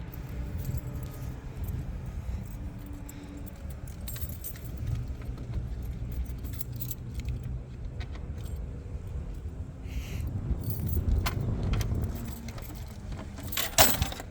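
Keys jangle close by for a long stretch next to a 1978 Road Runner fifth-wheel trailer. Rattling clinks spread across the clip over a steady low rumble, and a sharper cluster of jingles comes near the end.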